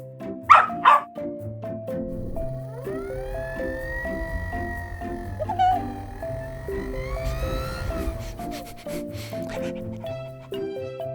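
A cartoon dog barks in a short burst of two or three yaps near the start of a children's farm-animal cartoon, then gives way to a steady, bright musical backing that runs to the end.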